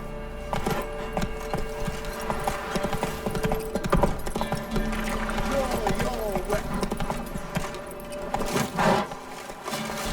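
Roach, Geralt's horse in The Witcher 3, clip-clops steadily along at close range, hoofbeats running throughout, with a voice speaking over the footfalls.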